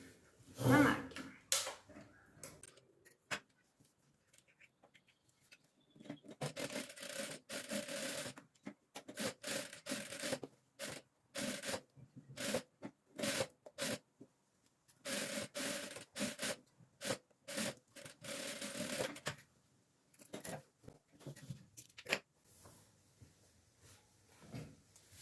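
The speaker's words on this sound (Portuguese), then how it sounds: "E eu vou costurar na máquina." A sewing machine stitching fabric scraps together for a rug, giving short bursts of rapid mechanical chattering separated by quiet pauses and small handling noises.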